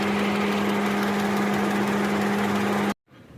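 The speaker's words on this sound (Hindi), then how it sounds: "ये गाड़ी ना मिसिंग कर रही है" A 2021 Suzuki Cultus idling with a misfire, a loud, steady engine drone with an uneven, vibrating pulse that continues for about three seconds before cutting off abruptly.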